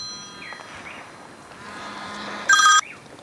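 A phone rings on a land-based flathead fishing outing, a short loud electronic ring cutting in over quiet outdoor ambience with faint birds and animal calls in the distance.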